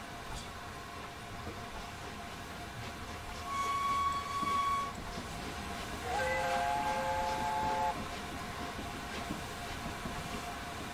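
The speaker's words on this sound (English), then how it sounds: "I am never going to get over blowing that whistle." A steam locomotive whistle in Train Simulator 2021 on a Mid-Devon morning run gives a short toot, then a longer chime-like blast, over the steady rumble and clatter of the moving train.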